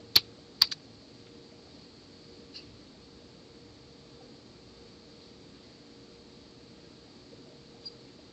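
A few sharp, quiet computer keyboard keystrokes tap out at irregular moments, two close together at the start and then isolated single clicks, against a faint room hum.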